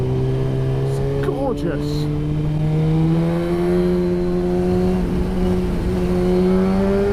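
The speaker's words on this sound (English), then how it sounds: "I love the sound of that full system, that full block system" Suzuki GSX-R motorcycle fitted with a full exhaust system, its engine holding a steady droning tone that rises slightly in pitch, with a brief man's remark over it.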